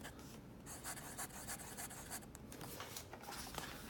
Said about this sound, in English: I'm not sure if you could hear the pen writing, but it does have that sort of audible feedback